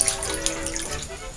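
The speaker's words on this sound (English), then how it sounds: "Let's pour some water in it." Water pours steadily into a small coffee maker, a continuous close splashing stream with no break for its short length.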